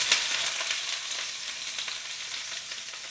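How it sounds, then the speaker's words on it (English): Vegetables sauteing in a hot pan of avocado oil for pepper steak give a loud, steady, dense sizzle and crackle that runs unbroken throughout, with no talking. "Now we're going to go ahead and saute some vegetables here."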